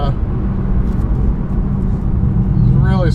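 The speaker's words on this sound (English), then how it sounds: "Second gear launch didn't seem so great." A car launches in second gear on a drag race track, its engine a loud, steady drone throughout that swells toward the end as it pulls away, with voices audible over it.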